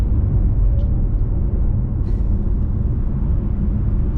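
A BMW M5 Competition on a UK motorway gives a steady, heavy low rumble that fills the whole stretch without letting up, with a faint brief higher noise near the middle.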